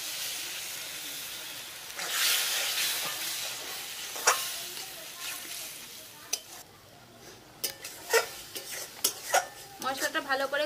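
Spiced masala gravy for a loitta fish dish being stirred and fried in a pan, village style: a continuous sizzle and hiss with scraping stirs, then a run of sharp metallic clanks of the spoon on the pan toward the end.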